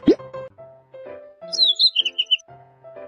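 A bird chirps in a quick run of five or six bright notes after a plucky, plopping tone sequence, clear and close.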